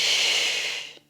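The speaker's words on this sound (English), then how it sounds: "Exhale." A single breathy exhale during a Pilates exercise, close and fairly loud, trailing off over about a second.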